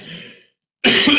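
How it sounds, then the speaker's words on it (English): One person coughs and clears their throat twice, close and loud, with a short silent gap between a softer first sound and a stronger second one. "I have a little bit of a cough today."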